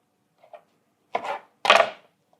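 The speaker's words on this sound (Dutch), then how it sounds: "We gaan het in stukjes snijden." A bread knife saws through focaccia into pieces in two short, crisp crunching strokes, close and alone, after a couple of faint taps.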